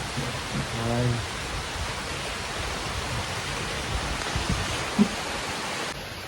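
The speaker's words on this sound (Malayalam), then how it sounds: "നല്ല മഴ പെയ്യുന്നുണ്ട് ഇവിടെ" Heavy rain falls late at night at a house, a steady broadband hiss under a brief murmur of voices near the start and a faint knock later on.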